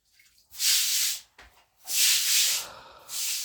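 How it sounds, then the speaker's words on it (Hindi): Clean water is splashed across a room floor while washing it, several loud hissing gushes, each lasting about half a second to a second, with short pauses between them, close by. "इस वजह से अब मैं साफ पानी से धो रही हूँ"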